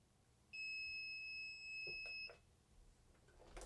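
A heat press timer gives a sustained, high-pitched electronic beep lasting nearly two seconds, faint but clear in a quiet room, followed by a few soft clicks and handling sounds.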